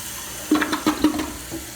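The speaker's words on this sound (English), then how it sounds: "So we're ready to flush." A toilet flushes just after its flush valve and flapper were repaired, with a sharp rush of water and gurgling surges, loud and close, and no talking.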